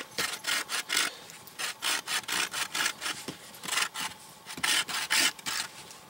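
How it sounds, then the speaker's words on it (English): A blade rasps back and forth as notches are carved into a wooden walking stick, making rapid rhythmic scraping strokes in short bursts, close and moderately loud with no talking. "if I take and I put 10 notches on the bottom of the walking stick"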